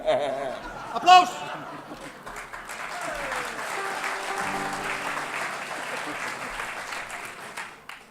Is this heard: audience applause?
yes